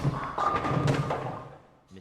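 A bowling ball crashes into the pins in a professional tournament final: one loud, sustained clatter and rumble of pins scattering, fading over about a second and a half, with a small knock at the end.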